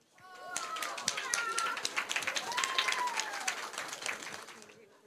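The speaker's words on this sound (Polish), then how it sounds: "Brawa ogromne" Crowd applause at a spring cosmetics trade fair prize draw, with scattered claps building into a lively round while voices and whoops rise over it.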